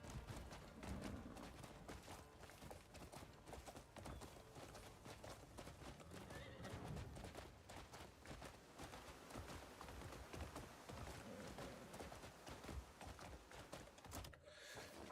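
A horse in the video game Crimson Desert gallops with steady rapid hoof clip-clops, and whinnies sound over the continuous game noise throughout.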